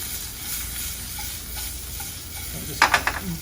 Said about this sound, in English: take some wild exotic mushrooms, and we're going to saute those very quickly